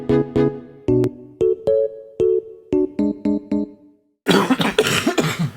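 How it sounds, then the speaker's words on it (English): A series of sharp, close coughs in irregular bursts, some overlapping, followed by louder, rougher coughing and throat noise. "both synchronising our coughs"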